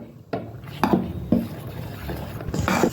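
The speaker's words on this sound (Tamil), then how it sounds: "இந்த மாவில் இதை நல்லா கலக்கிக்குவோம்." Fried onion and chilli being stirred into paniyaram batter, a spoon scraping and knocking against the bowl in several distinct strokes, close and moderately loud, with no talking.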